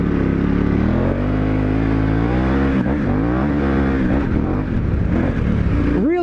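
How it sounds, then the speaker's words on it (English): A motorcycle on dual sport tires pulls away on a gravel road, its engine loud and close, revving up through rising pitch sweeps with a final sharp upward rev. "Ready to get a first takeoff here on this gravelly road."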